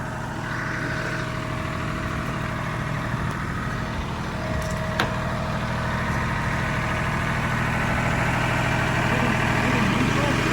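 A tractor engine idles in neutral, a steady low rumble running continuously throughout, with people talking over it nearby.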